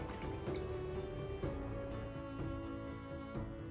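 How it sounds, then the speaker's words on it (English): Lapsang and black pepper vodka infusion poured through a sieve, a soft steady trickle with small drips and splashes heard close, no talking. "Pour it straight through there."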